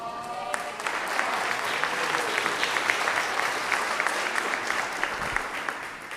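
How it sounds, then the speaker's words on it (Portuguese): A church congregation applauds together in the sanctuary after a prayer, a steady wash of many hands clapping at moderate volume throughout, with no voices rising above it. "Tome os seus assentos e aplaude o Senhor Jesus"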